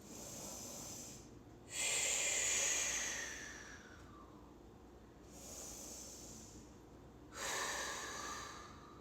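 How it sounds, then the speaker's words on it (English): Slow, audible breathing during a children's yoga story session: two deep airy inhales and exhales, close and soft, alone without talk. "Let's take 2 breaths."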